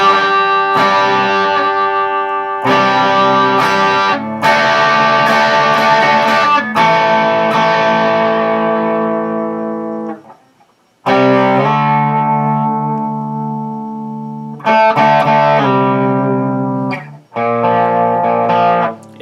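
Ibanez RG2610E electric guitar with a Seymour Duncan Full Shred pickup on its clean tone, a run of sustained chords and notes with slight breakup and reverb, separated by short pauses, alone and close.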